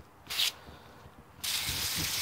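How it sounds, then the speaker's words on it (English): Short bursts of hissing water from a hose jet spray watering a straw bale, one brief jet followed by a longer steady spray, close by with faint background noise. "somewhat of a jet spray"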